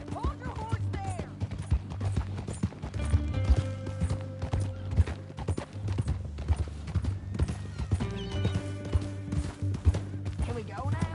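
Horse hooves clip-clop on a ranch in the Red Dead Redemption 2 video game, an uneven walking rhythm close by with a horse's whinny, while characters talk over the sound throughout.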